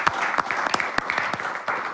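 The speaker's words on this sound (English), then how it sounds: "I think we should do one big resounding round of applause for our sponsors." A crowd at a sports invitational event breaks into a dense round of applause for the sponsors, steady and fairly near, with a few sharper individual claps standing out.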